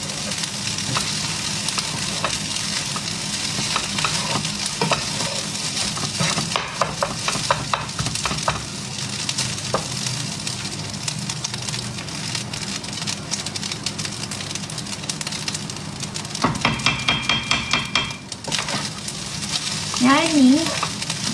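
Nasi goreng with sardine sambal stir-fries in a pan, a continuous loud sizzle with scraping and stirring strokes throughout and a brief voice near the end.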